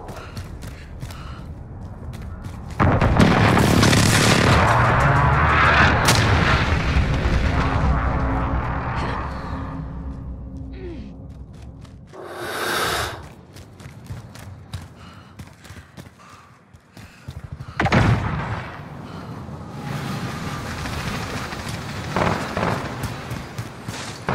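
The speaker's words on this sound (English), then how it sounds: "airstrike. Take cover." An airstrike in the video game Modern Warfare brings heavy booming explosions, with a long loud rumbling blast, a shorter thump, and then more blasts and crackling gunfire at mid distance.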